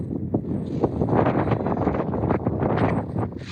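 Strong wind in a canyon in Chile buffets the microphone of a helmeted motorcyclist in steady, loud gusts, a broad rushing roar that rises and falls throughout.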